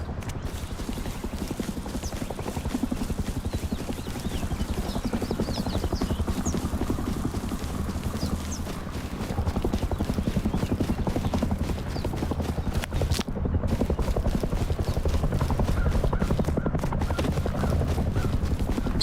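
An attack helicopter in the video game Rust approaches over snow, a steady low rotor rumble with rhythmic chopping pulses that holds at a constant loudness for the whole stretch, mixed with other in-game ambience.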